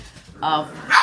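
Pet dogs bark and yip briefly in a short, close burst while playing after eating, with a voice nearby.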